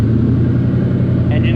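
A Factory Five Cobra Roadster engine idles steadily just after starting, a loud, close, continuous low rumble with a brief higher whine near the end.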